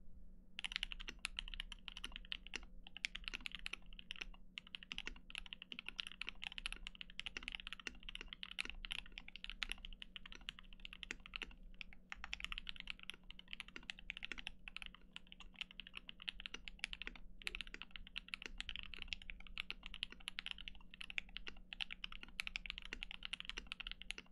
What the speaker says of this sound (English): Let's do one more test on this keyboard too.